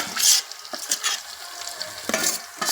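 Fish pieces dropped into a hot frying pan for a fish curry set off bursts of hissing sizzle, with clinks and taps of a utensil against the pan between them.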